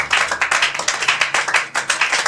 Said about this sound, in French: Il a besoin de nos acclamations ce soir.